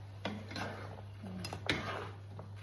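A metal lid clatters onto a frying pan, with several light clinks and scrapes of cookware over a steady low hum in a quiet room.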